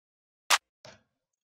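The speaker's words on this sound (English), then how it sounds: "I layered two claps on top of each other" Two separate clap samples, the first a sharp bright snap and the second a softer, duller clap, heard one after the other in isolation.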